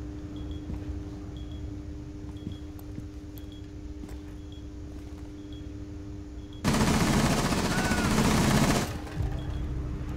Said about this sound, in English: Tachanka just shot at someone.